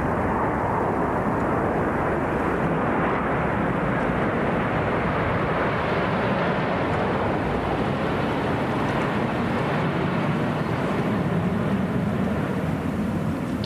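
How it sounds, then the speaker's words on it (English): Military jets, twelve Phantoms and four Lightnings, fly past in formation at about 800 feet beneath low cloud at a 1969 royal investiture ceremony, a loud, sustained broadband roar that stays steady throughout. "here comes the flypast. 12 Phantom aircraft,"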